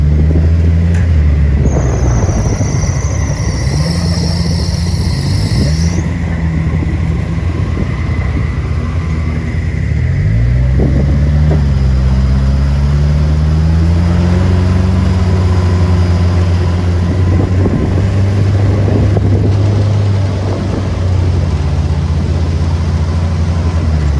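An ATV engine drones loudly and continuously on a desert tour near Kfar Adumim, Israel, its pitch rising and falling as the throttle is worked, with a higher whine joining in at times.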